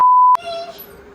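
A single sustained electronic tone from a mobile phone sounds for about a third of a second, then cuts off, leaving a faint ringing decay and quiet background.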